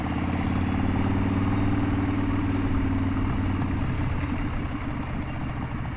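A motor runs steadily at a low, throbbing idle, loud and close, with a rough rumbling exhaust tone and no sharp revs.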